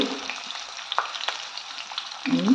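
Chopped onion, potato and cauliflower sauté with bay leaves in a pan, a soft steady sizzle broken by light clinks and scrapes of stirring and a louder hiss at the end.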